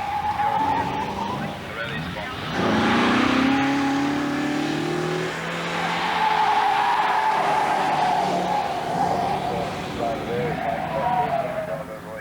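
Lancia Flavia Zagato driven hard through a timed slalom test at an airfield, engine revving and changing pitch between bursts of tyre squeal and skidding, fairly close and steady in level, with a voice talking over it.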